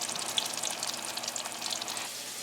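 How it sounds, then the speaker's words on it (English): Sofrito fries in a pan with a steady, close hiss and crackle, sizzling continuously with scattered small pops and no talking. "my sofrito is cooking and frying up or whatever"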